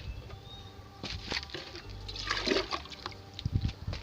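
Water gurgles and splashes faintly in short, irregular bursts as coolant is flushed through the cooling system and radiator of a Nissan President, quiet and close against a low background hum.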